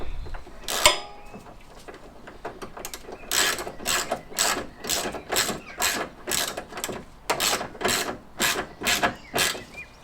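A ratchet tightens a bolt on a classic Fiat 500 engine during a rebuild, giving bursts of rapid clicking in a steady back-and-forth rhythm. One sharp metallic knock comes early, and the clicking is close and clear with no talk.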